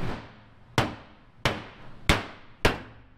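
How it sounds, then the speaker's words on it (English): A hammer strikes a bent car hood to fix its latch, four sharp, loud metallic blows at an even, unhurried pace, each ringing briefly before fading, with no voices. "we're gonna do a little hammering, see if we can get this to latch"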